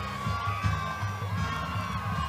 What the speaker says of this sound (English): Well, that will get the home crowd fired up. Boy, did that get loud over there.